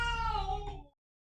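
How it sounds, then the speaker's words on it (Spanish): A single loud cat meow with a strong harmonic wail, close and isolated, part of a catfight, ending abruptly in silence. "tuve que ir a sofrenar una pelea de gatos"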